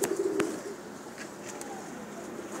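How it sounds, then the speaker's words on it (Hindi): A pet pigeon on a rooftop loft setup coos in a low, rounded burst at the start, then fades under a soft ambient background with a few faint chirps. "ये शकील भाई का बहुत ही लाडला और अच्छा कबूतर है जी"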